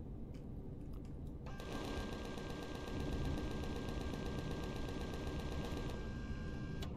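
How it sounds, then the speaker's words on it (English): Enemy gunfire in the space survival game Empyrion: a dense, continuous rattle of rapid automatic shots that swells and holds at steady loudness, thick and unbroken with no pauses, filling the whole stretch. "Oh, we're taking fire."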